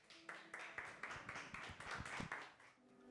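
Applause from a church congregation giving praise to God during a Sunday service, a steady burst of many hands clapping together at moderate loudness, continuous for several seconds before fading.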